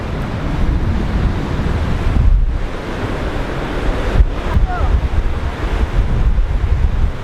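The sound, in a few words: ocean waves with the tide coming in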